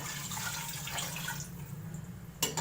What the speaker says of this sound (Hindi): ये मैं पानी इसमें डाल दूँगी बस, और ये इसको मैं पका दूँगी।